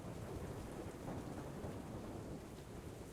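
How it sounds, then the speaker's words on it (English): Rolling thunder from an approaching storm rumbles low and steady in the distance with no rain falling yet, constant and unbroken. "you can hear off in the distance the rolling sound of thunder"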